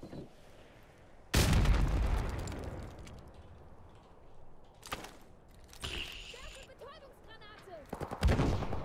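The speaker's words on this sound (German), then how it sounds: "Hier wird noch hart gesprengt, ey." Gunfire and explosions in Call of Duty: Modern Warfare Remastered: loud broadband blasts with rattling shots, one near the start, another mid-clip and a final burst near the end, with a quieter stretch of battle noise and possible talk between them.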